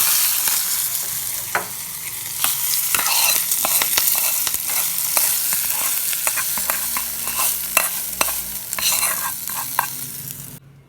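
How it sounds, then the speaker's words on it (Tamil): Curry leaves crackle and spit as they are tempered in hot oil, a steady close sizzle punctuated by sharp pops and stirring scrapes, with no talk. "ஒரு ரெண்டு மூணு தலை கருவேப்பில் போட்டுக்கலாம் அவ்வளோதான் தாளித்து கொட்டிக்குவோம்"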